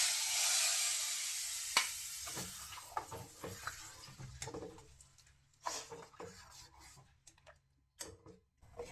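Curry leaves, cumin and ground cinnamon-clove powder sizzling in hot oil for a dal tempering, a steady close frying hiss that fades over several seconds, broken by small ticks and stirring sounds.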